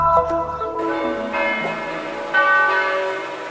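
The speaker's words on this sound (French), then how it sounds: "les cloches de l'église Saint-Sauveur de Jérusalem sonnent pour la célébration eucharistique des pèlerins en Terre Sainte" Church bells of Saint-Sauveur church in Jerusalem ring out loud and resonant in overlapping peals, their tones sustaining and layering with fresh strikes throughout, no voices present.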